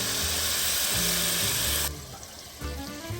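Lemon juice pours into a hot pan of butter and lemon zest, giving a loud bright sizzling hiss that cuts back to a quieter bubbling simmer partway through.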